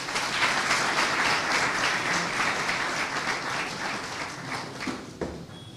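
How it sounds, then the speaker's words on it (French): A university conference audience in a hall breaks into steady, dense applause, a continuous wash of many hands clapping at moderate distance that eases off slightly toward the end. "je vous prie de l'applaudir"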